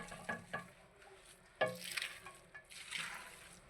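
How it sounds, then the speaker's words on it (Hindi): Chicken seviyan is mixed in a pot with a few soft scrapes and stirring strokes over a faint, low sizzle. The sound is quiet and close. "आपने इसको अच्छी तरह मिक्स कर देना"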